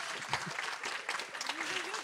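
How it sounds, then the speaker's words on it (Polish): Applause from an audience at a panel discussion event, a steady dense patter of clapping throughout at moderate loudness, with a few voices and a faint tonal sound near the end. "Także jeszcze raz proszę, gorące brawa."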